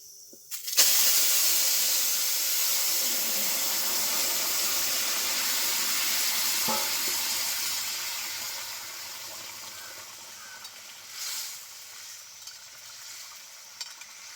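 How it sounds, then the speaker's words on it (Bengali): Whole black cumin seeds and a dried red chilli sizzle and hiss steadily in hot oil in a pan, with a faint stir partway through and the frying fading slowly toward the end. "গোটা কালো জিরে নেড়ে চেড়ে নিলাম এখন সম্বারে দিয়ে দিচ্ছি"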